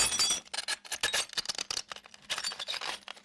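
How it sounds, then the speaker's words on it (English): Small glass bits crunched and ground against another piece of glass, a close series of sharp irregular crackles and gritty scrapes in quick bursts. "got some glass bits and wound up breaking those"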